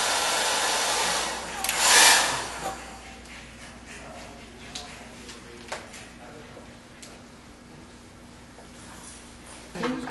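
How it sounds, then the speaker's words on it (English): A hair dryer runs steadily while drying a Chinese brush painting, a soft continuous blow with a brief louder surge near the start and small knocks and handling sounds over it. "Let me use the hair dryer."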